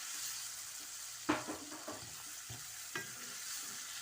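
Sliced boiled eggs fry quietly with masala in a pan, a soft low sizzle broken by a few sharp spatula taps and scrapes.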